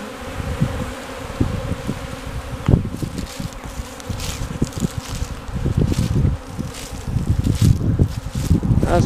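Bees swarm and buzz steadily around a tree in an outdoor setting, a dense close drone of many insects lasting throughout, with light wind and rustling underneath.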